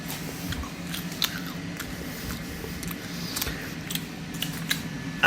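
Crunchy potato peelings chewed close to the mouth, a string of small crisp bites and crunches over a steady low background hiss, with no talking.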